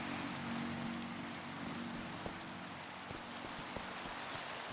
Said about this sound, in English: And I hate the rain.